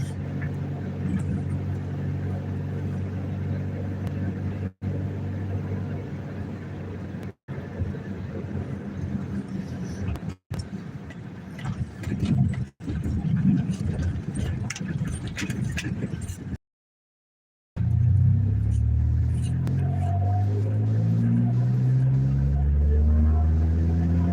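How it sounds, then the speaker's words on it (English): A loud four-cylinder Honda car engine drones steadily while driving, with a brief dropout near the end and rising revs afterward; someone talks over it at times. "Mine's got that rice burner sound because, you know, well, 4-cylinder"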